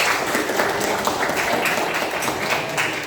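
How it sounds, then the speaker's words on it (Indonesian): Audience applause for a student named Wafi during a school lesson on the power and mercy of Allah, a steady dense patter of clapping that holds evenly through the whole stretch with no one speaking over it. "Tepuk tangan untuk Wafi"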